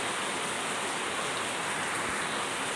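Heavy rain pours steadily on a rainy day in Kerala, a dense, loud, unbroken hiss of falling water with no voices.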